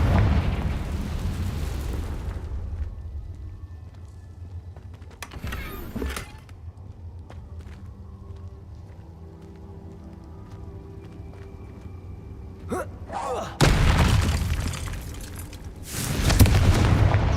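Confringo spell blasts in Hogwarts Legacy, a few separate loud booming explosions with crackling bursts, the first near the start and two more toward the end, with quieter rumbling ambience between them.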